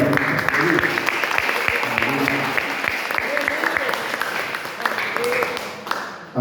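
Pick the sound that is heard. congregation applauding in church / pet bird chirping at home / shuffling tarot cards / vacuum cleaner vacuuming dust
congregation applauding in church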